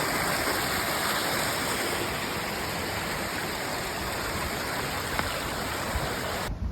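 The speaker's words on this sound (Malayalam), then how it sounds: "അപ്പോൾ ആ വെള്ളച്ചാട്ടം നമ്മൾ പാർഷ്യലി ഉദ്ഭവിക്കുന്നത് ഇവിടെ നിന്നാണത്" At a waterfall and stream in Ireland, water rushes in a dense, steady roar, close and loud, unbroken throughout with no voices.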